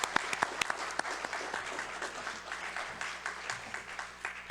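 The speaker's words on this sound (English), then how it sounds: "How about another round of applause for them?" Audience at a county treasurer-tax collector candidate forum applauding steadily, with sharp individual claps up front at first, then a dense, even round of clapping that continues through to the end.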